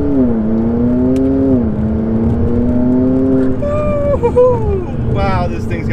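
A tuned 2012 McLaren MP4-12C supercar of about 700 horsepower accelerates hard on a road, its loud engine note climbing in pitch through the gears with quick shifts, heard up close from inside the car.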